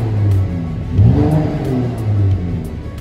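Mercedes-AMG GT53 four-door coupe, a stationary car in Colombia, starting up with a brief rev that swells then settles into a smooth, steady idle, heard close and alone without speech.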